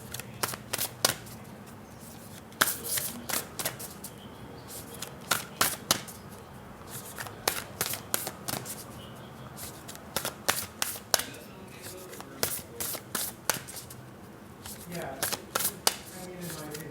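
A Black Moon Astrology card deck is shuffled in a series of crisp riffles and snaps, close and bursty, with quieter gaps between rounds of shuffling.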